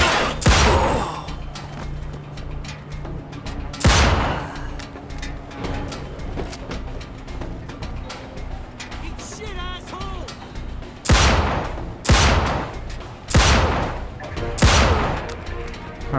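Heavy magnum pistol gunfire from the video game Mafia 2, with several loud, sharp shots spaced irregularly across the span, a late cluster of three, over a steady game ambience with faint talk.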